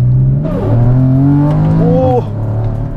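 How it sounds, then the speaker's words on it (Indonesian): A 2014 Porsche Cayman's exhaust revs up and drops back, with a deep, loud engine roar that rises and falls in pitch. "Kalian bisa dengerin suaranya ya, exhaustnya."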